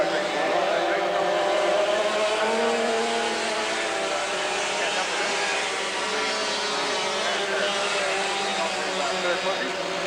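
Dirt karts race around a track, their engines droning steadily and loudly with overlapping buzzing revs as several pass, a commentator talking over them throughout.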